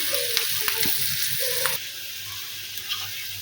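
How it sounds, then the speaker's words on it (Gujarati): Capsicum peppers frying over low heat give off a steady, soft sizzle with a few brief stirring clinks early on, then carry on as a quieter, even sizzle. "તેમાં આપણે કેપ્સિકમ મરચાં એડ કરી દઈશું। આપણે તેને ધીમા ગેસ પર 2 મિનિટ માટે શેકી લઈશું।"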